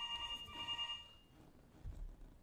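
A telephone bell rings in a short burst of bright, tinny trills that stop after about a second, leaving a quiet room with a soft low thump.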